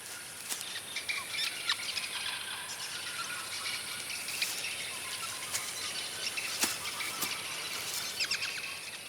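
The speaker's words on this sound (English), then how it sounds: "The twittering seems to come from a single tree, from one giant nest." Many small birds twitter from a single tree holding one giant nest, a faint distant chorus of thin chirps and sharp clicks over a quiet outdoor background.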